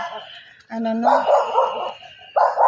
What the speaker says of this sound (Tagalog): Ingay naman ang aso dyan